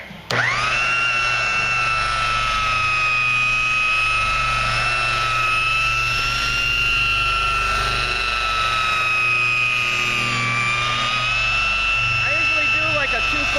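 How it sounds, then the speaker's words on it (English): A single-speed car polishing buffer runs at full speed on a truck's paint. It gives a loud, steady, high-pitched mechanical whine with a low motor hum, close up, with only slight wavering in pitch. "this buffer I'm using is only 1 speed"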